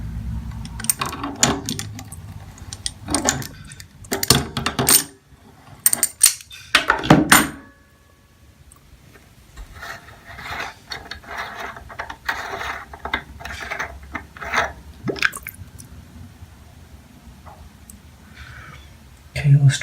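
Vice grips working a clogged aerator off a sink faucet: bursts of metallic gripping, scraping and ratcheting clicks close up, broken by quiet pauses, with some handling noise.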